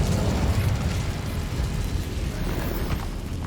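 Incendio fire spell cast in Hogwarts Legacy while exploring catacombs, a loud sustained whooshing roar of flame filling the whole moment without any talk.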